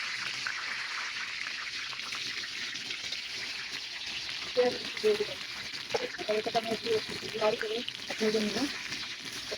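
Bay leaves with cardamom, cinnamon and cloves sizzle in a little oil for a mutton and potato curry, a soft, steady crackle heard under a person talking.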